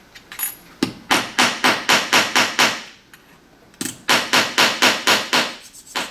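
A hammer strikes a metal earring piece flat on a hard surface at a jewelry bench, in two quick runs of about eight sharp, evenly spaced blows separated by a short pause.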